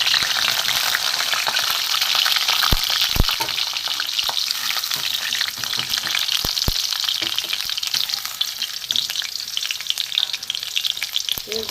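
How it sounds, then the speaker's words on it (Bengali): Potatoes fry in hot oil in a wok with a steady, loud, dense sizzle that runs throughout, broken by a few sharp spatula clinks against the metal. "প্রথমে আমি আলুগুলো ভেজে নেব। তেল গরমও হয়ে গেছে"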